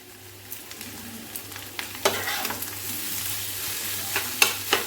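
Ground coriander, cumin and black salt stirred in a frying pan while making aloo chop, with a soft steady sizzle and scattered scraping clinks of the spoon, fairly quiet and with no voices.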